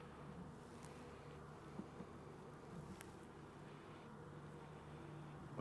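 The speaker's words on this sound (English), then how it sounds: "Bees hanging out." Honeybees buzzing on a frame lifted from a young package hive, a steady low hum from many bees close by, continuous and fairly faint, with no talking.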